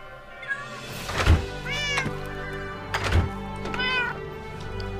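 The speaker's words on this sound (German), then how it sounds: "Miau, da sind die Katzen schon wieder dabei." Cats in the Minecraft video game meow twice, clear and close, each rising-and-falling cry following a soft thunk, with low game ambience underneath.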